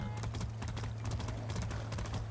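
A horse gallops in the video game Far Cry 6, its rapid hoofbeats drumming in a quick, even rhythm. The hooves sound moderately loud over a steady low rumble, and no one talks over them.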